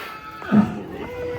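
A giant, super-tall contest cow at Setia Farm gives one loud, close moo lasting under a second, with a quiet farmyard hush before and after.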